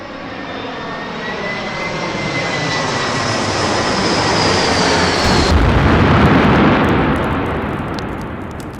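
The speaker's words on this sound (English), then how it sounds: "Guys, look! Here's an airplane." An airplane engine sound effect played during a college end-of-year stage show, a loud, broad roar that swells steadily as if passing overhead, peaks midway, then slowly recedes, with no voices.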